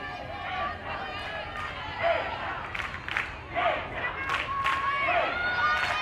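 Softball crowd at a Kennesaw State versus Florida State women's game cheering and shouting for a strikeout, a steady babble of voices swelling in several loud bursts of yells and whistles.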